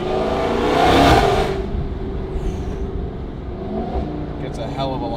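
Dodge Hellcat with a titanium exhaust, valves open, revving hard: a loud, near engine roar that swells in the first second and a half, then settles into a deep steady rumble.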